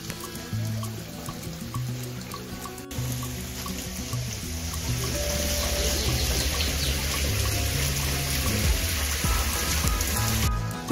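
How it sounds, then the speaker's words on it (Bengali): A falling water feature at a cafe on Nami Island gives a continuous splashing patter like rain on a surface, moderately close, that grows a little fuller and louder partway through, with faint background murmur. "এই জল পড়া সিস্টেমটা আমার বেশ ভালো লেগেছে"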